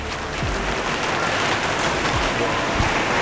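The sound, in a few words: rain falling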